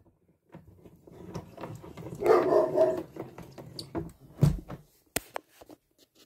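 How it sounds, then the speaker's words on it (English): Dogs bark in repeated outdoor bursts at a black bear lying in a rural yard, barks moderately near with some yips, while people talk quietly in between. "the dogs are barking so much"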